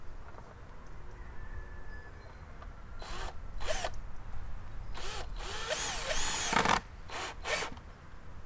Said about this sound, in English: I'm putting some extra screws to the side so it is not moving in the wind like this.